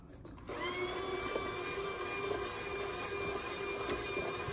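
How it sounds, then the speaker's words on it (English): An electric hand mixer whirs through cornbread batter made with buttermilk, switching on abruptly and then running as a steady, close, high-pitched motor whine with no talk over it. "All right, so we're gonna mix these three things with mixer, hand mixer."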